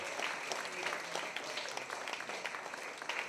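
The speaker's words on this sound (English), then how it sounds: "Give yourselves a huge round of applause for taking part" Audience applause after a talk on storytelling, music and climate change, a steady patter of many hands clapping at moderate distance, fairly even throughout with no clear voices on top.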